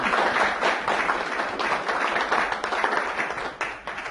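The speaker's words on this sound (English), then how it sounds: "Give her a big round of applause." Applause from a seated audience at a hypnosis seminar, a steady, moderately loud stream of many hands clapping that carries on evenly for about four seconds and thins slightly at the end.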